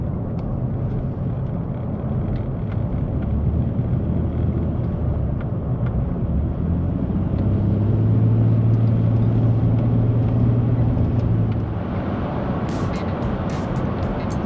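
A 2014 Nissan Frontier with an automatic transmission on a test drive, its steady engine and road rumble continuous and close from inside the cab, with a brief rise in engine tone midway and a few clicks near the end.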